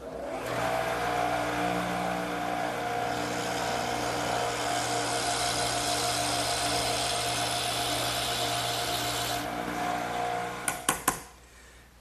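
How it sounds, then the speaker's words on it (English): A steady, loud drill whine boring through wood runs continuously for several seconds, then stutters through a few sharp bursts and winds down at the end. "this one I'm going to have to drill all the way through"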